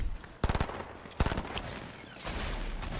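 Shotgun blasts in the Fortnite video game: two bursts of rapid, loud booming shots, one near the start and another about a second later, set against steady game noise and a rising whoosh near the end.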